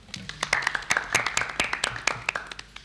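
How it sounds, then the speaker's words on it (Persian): A classroom of students applauding a classmate, a brief burst of scattered hand claps from several people, close and irregular, building then thinning out. "تشویق کنید دوستونو"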